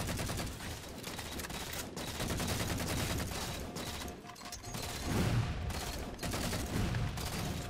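Video game gunfire from a Halo 4 online slayer match, dense bursts of automatic shots and impacts running continuously at steady loudness, with brief louder volleys near the end.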